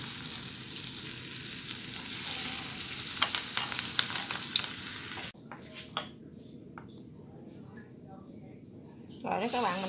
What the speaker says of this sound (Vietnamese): Các bạn chiên cho nó vừa vàng tới thì mình sẽ vớt nó ra nha